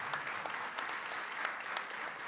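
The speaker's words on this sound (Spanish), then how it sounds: "un aplauso por favor" An audience at a regional panel on territorial experiences claps for the presenters, a steady spread of many hands with individual claps standing out, fairly distant and even, with no speech.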